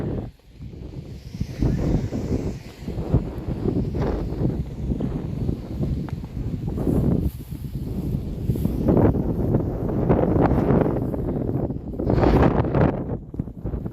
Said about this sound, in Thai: ลมนะ